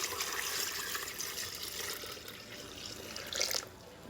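Cold water poured into a container for sweet tea, a soft continuous splashing stream heard close but quietly, fading slightly toward the end.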